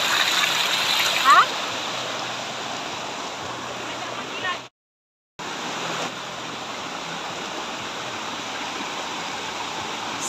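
A flowing stream current, steady broadband rush of water close by, with a brief louder splash near the start and a short dropout partway through; faint voices occur under the water noise.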